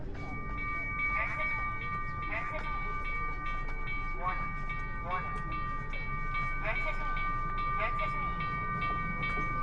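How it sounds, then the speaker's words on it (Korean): A train running right beside a seaside boardwalk walking path on the Haeparang trail between Daebyeon harbor and Haeundae in Busan: a steady close rumble with rhythmic, repeating wheel clacks, continuous throughout. "바로 옆에는 기차가 지나가고"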